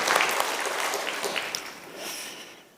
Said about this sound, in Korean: 다시 한번 큰 감사의 박수를 드리겠습니다